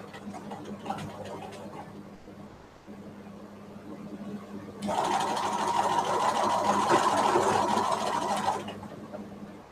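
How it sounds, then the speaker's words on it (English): A sewing machine runs for several seconds, a fast, steady mechanical whir that starts partway in, stitches continuously and then stops, following a stretch of quieter background hum. "So I can try to do a nice even stitch."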